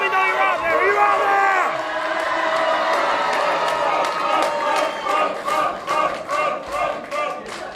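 A capacity crowd at a British professional wrestling show in Maidstone cheers and whoops loudly, the roar rising and falling in bursts while an amplified announcer talks over it.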